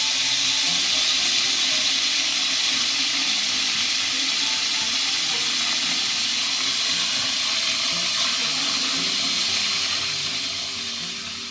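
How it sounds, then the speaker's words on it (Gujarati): Cold water pouring steadily into a pot of just-boiled peas, a continuous bright hissing rush held at even strength, then easing off near the end. "અહીં વટાણા ડૂબી જાય ને તેટલું ઠંડુ પાણી ઉમેરાઈ ગયું છે."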